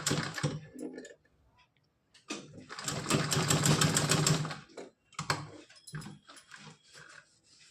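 A domestic sewing machine stitching a small doll dress runs in short bursts, a rapid mechanical rattle that starts and stops with a quiet pause near the start and a longer run in the middle.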